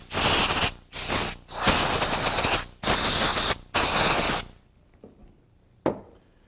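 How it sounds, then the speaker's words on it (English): Compressed air from an air hose blasting debris out of a crack in a steering wheel during repair, five loud hissing bursts of varying length separated by short pauses, followed by quieter handling noises. "I take my air hose and blow this stuff out of this crack."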